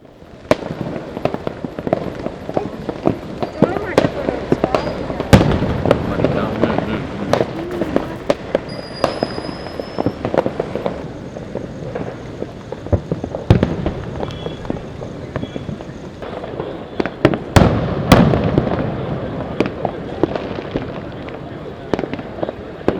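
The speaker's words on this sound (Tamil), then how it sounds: "வானில் பல வண்ணங்களில் பட்டாசுகள் வெடித்ததை கண்டு ரசித்தனர்" Diwali fireworks burst repeatedly in irregular sharp bangs and crackles, some near and loud, others distant, with wind noise and crowd voices between the blasts.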